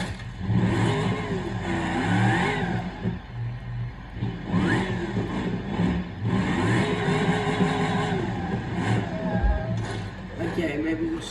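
A car engine in a PC driving game revs up and down in repeated surges with gear-shift dips, loud and continuous, while a voice talks over it.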